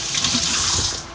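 Water runs from a tap to wash fruit, a steady close splashing stream that lasts about a second with no talk.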